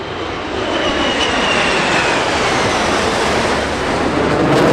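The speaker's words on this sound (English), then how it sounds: "the PC-7s and fighters converge on Show Centre for a spectacular finale" Pilatus PC-7 Mark II turboprop trainers and fighter jets fly past together at an air show, a loud, steady wall of engine roar that swells slightly and holds with no voices.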